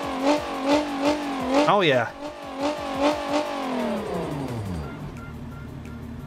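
Race-modified minivan fitted with exhaust stacks revs hard several times in rhythmic bursts, rising to a high peak and then winding down into a fading rumble, with a short voice over the engine.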